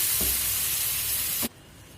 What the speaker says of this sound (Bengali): জল অল্প করে জল ঢালিয়ে দিলাম